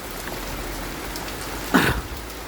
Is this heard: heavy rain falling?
yes